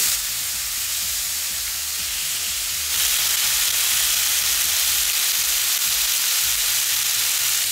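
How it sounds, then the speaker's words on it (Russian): Marinated chicken frying in a pan gives a steady, close sizzle with broadband hiss that grows slightly louder partway through, with no talking. "Здесь главное не пережарить, а то мясо будет сухое."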